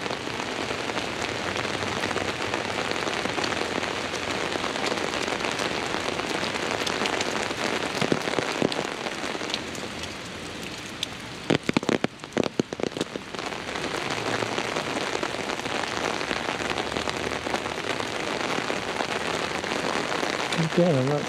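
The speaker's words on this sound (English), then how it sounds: "You can see and hear the rain pretty good." Steady rain falls at the Palace of Fine Arts in San Francisco, a dense even hiss of drops on surfaces running throughout, with a brief cluster of sharper patters midway.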